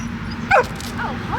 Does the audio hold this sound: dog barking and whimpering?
yes